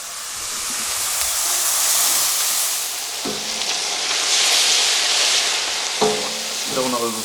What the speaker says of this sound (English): You don't want to over fry your mushrooms.